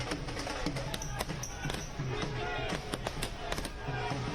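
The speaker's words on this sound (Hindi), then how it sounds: "पटाखे फोड़कर जश्न मनाते हुए आप भाजपा कार्यकर्ताओं को यहां पर देख रहे हैं।" Firecrackers bursting at a BJP election victory celebration outside the Delhi party headquarters, a rapid string of sharp cracks scattered through the clip over busy crowd noise and background voices.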